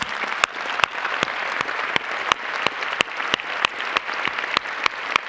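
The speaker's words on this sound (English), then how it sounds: "Let's give them a round of applause." Audience applause at a science awards ceremony: a continuous bed of crowd clapping, punctuated by loud, sharp individual claps from a nearby clapper at a regular pace.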